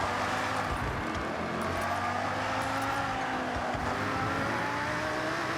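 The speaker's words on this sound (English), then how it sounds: "the Ford GT is getting the back end loose" Ford GT engine in Forza Horizon 6, a steady loud drone with shifting pitch as the car drifts, held continuously and close with no talk.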